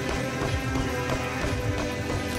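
A horse gallops in the Darksiders 2 video game, with quick, steady hoofbeats rolling continuously at close range and fairly loud, no voices heard over it.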